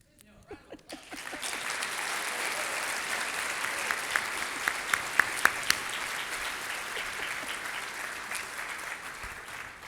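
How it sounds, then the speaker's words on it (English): An audience at a CEO conference breaks into applause after a talk, a dense, steady roar of clapping that starts abruptly and holds, with a few sharper claps and a voice briefly over it. "First of all, round of applause."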